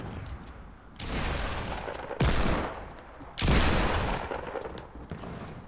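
Fortnite gunfire coming in three loud rapid bursts, each a dense crackling volley that starts abruptly and tails off over about a second, close and sharp with short gaps between them.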